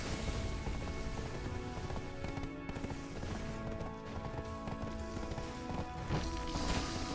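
Horse hooves clop steadily in the online video game Black Desert Online, a continuous rhythmic trotting under a dense layer of game music and ambience, with no voices.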